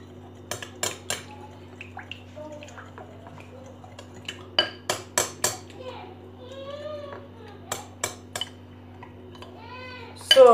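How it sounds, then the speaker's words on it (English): Homemade under-eye cream stirred in a small bowl makes irregular clinks and taps of a spoon against the bowl, some in quick runs and others spaced apart, while a voice speaks now and then. "Stir, stir, stir."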